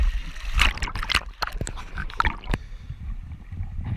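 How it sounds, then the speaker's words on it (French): Irregular waves splash and slosh close by on the river at St-Louis-de-Gonzague, with choppy turbulence between them and a brief voice in the background. "Les vagues arrivent toutes comme ça"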